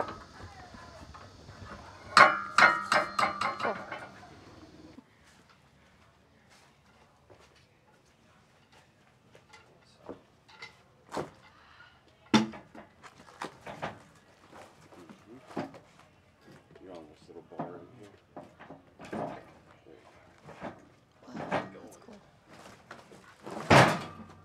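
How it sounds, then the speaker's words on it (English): Heavy log turned over on a sawmill, giving a cluster of loud wooden knocks and thuds early on, then scattered bumps, clanks and sharp knocks, with people talking at times. "So now that they flipped over the log"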